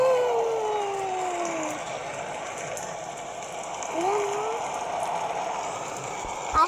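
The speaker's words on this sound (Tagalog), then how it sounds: "Acid rain pala yan." Acid rain falls in the Roblox game Natural Disaster as a steady hiss of rainfall that runs unbroken throughout, with faint game tones gliding underneath.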